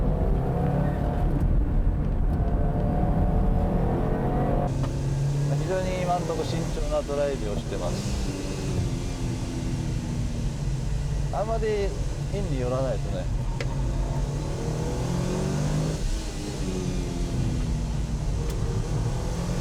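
A rally driver's car runs a course with a steady, continuous engine drone and road rumble, broken by several short rising and falling rev sweeps as it works through gear changes, heard from inside or close by.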